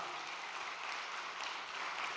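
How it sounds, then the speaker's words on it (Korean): An audience applauding during a Korean church training session, a faint but dense and even patter of many hands clapping together without a break. "우리 천진 참 부모님께 힘찬 감사의 박수를 올려주시기 바랍니다"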